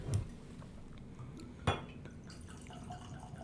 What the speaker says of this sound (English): So I'm going to pour a dram